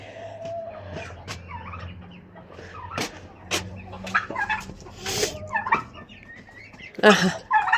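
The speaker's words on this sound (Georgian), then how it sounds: "დაირივნენ მამლები დედლებს" Roosters and hens on a Georgian farm cluck and call in an irregular stream of short, close bursts, with a louder squawk near the end.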